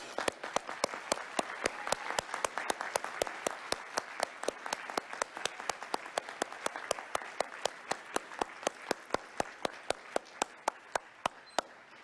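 A graduation audience at the UEA History ceremony in 2017 applauds families and friends. The clapping is sustained and fairly soft, with crisp individual claps standing out in a steady rhythm across the whole stretch.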